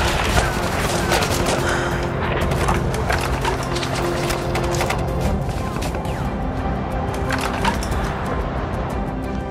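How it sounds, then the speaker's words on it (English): Gunfire in a documentary about the 1999 Kargil War in Ladakh, with scattered sharp shots and bursts cracking over a constant rough background din, some close and some further off. "The enemy kept firing at us."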